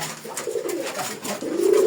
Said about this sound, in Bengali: পাশাপাশি এখানে আমার আরো কয়েক জোড়া কবুতর ছেড়ে দিয়েছি ভিতরে।